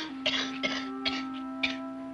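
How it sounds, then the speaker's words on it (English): A woman coughs in four short, harsh bursts, evenly spaced and close by, with a steady low hum running underneath and no talk. "She's been coughing like that ever since last night."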